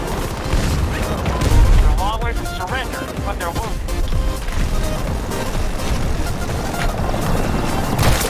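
A helicopter in the Battlefield 2042 shooter drones steadily behind constant crashes, booms and gunfire bursts, with a player talking excitedly over the game mix throughout.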